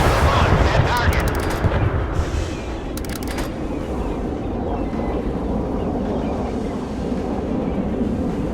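Missile launch from a warship in a naval combat video game: a sharp burst with crackling ignition, then a long, loud rushing roar that fades into steady wash over the rest of the span.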